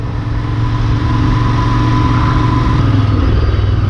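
A Royal Enfield Interceptor 650 motorcycle engine runs hard at full throttle on a main road, a loud, steady mid-pitched drone that rises slightly in pitch toward the end, with no talking.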